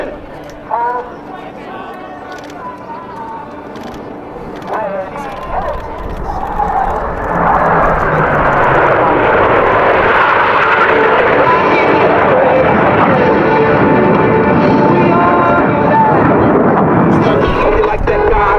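Blue Angels jets flying a precise diamond aileron roll at a 2015 air show build into a loud, sustained roar over the last half, with a crowd and an announcer audible beneath.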